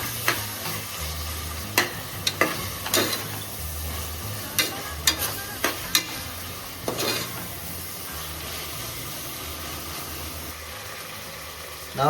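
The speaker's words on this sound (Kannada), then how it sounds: "ಇವಾಗ ಇದ್ರ ಜೊತೆಗೆ ನಾವು ಟೊಮೊಟೊ ಮಿಕ್ಸ್ ಮಾಡ್ತಾ ಇದ್ದೀವಿ ನೋಡಿ" Onions and tomato fry in a pan while being stirred, with a low continuous sizzle broken by occasional sharp scrapes and clicks of the spoon, close and moderately quiet with no talking.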